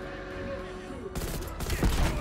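Rapid triple-burst rifle fire in the shooter game Call of Duty: Black Ops Cold War breaks out loud and close after a quieter moment of game ambience, with dense overlapping shots.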